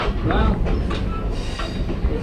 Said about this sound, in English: the train was doing about 25 miles an hour maximum